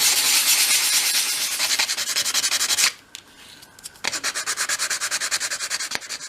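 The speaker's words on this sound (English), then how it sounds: "I'm now going to sand all of these pieces to prepare them for the wood dye" Small wooden pieces for a miniature kitchen room box being sanded by hand before dyeing: close, steady rhythmic rasping strokes, a short pause partway through, then the scratchy back-and-forth resumes.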